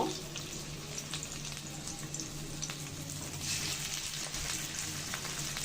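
Shrimp fritters sizzling in hot oil in a pan, a soft steady crackle and hiss with scattered small pops, fairly quiet and continuous with no talking.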